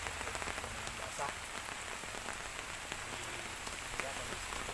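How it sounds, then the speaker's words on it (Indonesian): Heavy overnight rain pours steadily and continuously, a dense close hiss of drops on surfaces with no break and no talk over it. "dari tengah malam hari hujan lagi"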